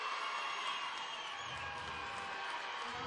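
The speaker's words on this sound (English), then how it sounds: "listen to that crowd go" A women's cricket match stadium crowd roars in a steady, dense wash of cheering after a run out, sustained and fairly distant with no clear breaks.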